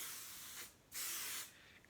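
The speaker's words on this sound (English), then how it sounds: "I'm going to spray adhesive this." Two short bursts of spray adhesive hissing close by from an aerosol can, each lasting under a second with a brief pause between, followed by a sharp click.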